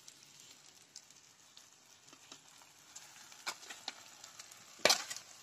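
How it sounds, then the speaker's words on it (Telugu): Bottle gourd pieces dropped into a hot pan with coriander and mint, giving a soft steady sizzle with scattered crackles and taps that build toward a louder clatter near the end, with no talking. "ఇప్పుడు సొరకాయ ముక్కలు వేసుకోవాలి"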